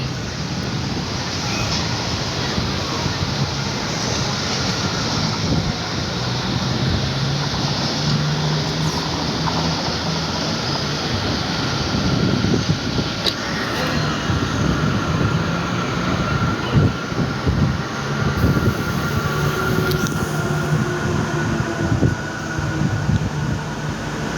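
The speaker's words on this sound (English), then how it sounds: "And there go the train." A metro train in Medellín rolls past in a city setting, a continuous rumble of wheels on rails with faint squeals, steady and moderately near, with no talk.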